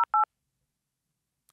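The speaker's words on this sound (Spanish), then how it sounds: "Sacó su teléfono y marcó." Keypad tones of a telephone number being dialed: a short two-tone beep followed by a longer one, crisp and close, then near silence with a faint tick at the end.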